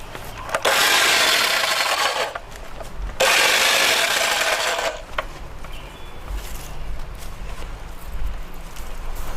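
Pruning shears or a small saw cutting dead growth off a plant, heard as two long, loud rasping bursts of cutting, each about two seconds, followed by quieter rustling and handling of the branches.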